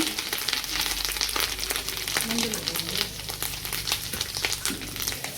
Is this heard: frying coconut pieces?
yes